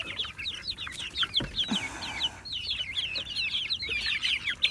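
Backyard chickens cluck and chirp busily in a dense, overlapping chorus while being fed worms, with a brief flutter or rustle in the middle, near and continuous.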